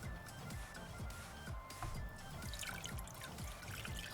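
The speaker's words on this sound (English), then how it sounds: "Add about 400 ml water." Water pours steadily into a cooking pot, a continuous close trickle that bubbles and splashes lightly for a few seconds.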